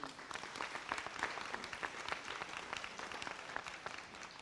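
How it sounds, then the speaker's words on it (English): A summit audience applauds a presenter just off stage, dense, even clapping from many hands sustained throughout at moderate volume, with no speech over it. "let's give Mr. Okabe a big applause"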